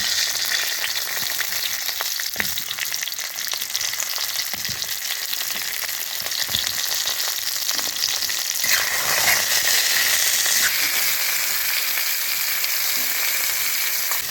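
Pointed gourds (potol) frying in mustard oil with a little salt, a steady close hiss and sizzle running the whole time with occasional stirring scrapes, no talk.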